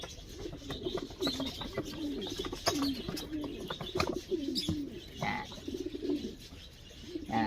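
Inbred pigeons of a breeder's Alphonse line coo in repeated low throaty rolls with soft chirps and a few sharp knocks, close by in an enclosure, steady and moderately faint with no talk.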